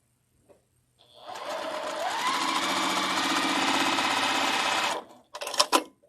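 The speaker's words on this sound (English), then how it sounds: "I'm going to sew all of these together" A sewing machine stitching quilt pieces together, running steadily for about four seconds with a fast, even whirring hum, then stopping, followed by a few short mechanical clicks and rattles.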